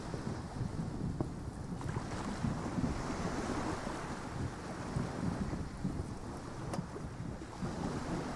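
Loud, steady ocean waves and surf roll continuously from the Disco Elysium game, a dense wash of breaking water with wind-like noise and no pauses.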